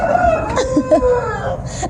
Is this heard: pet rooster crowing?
yes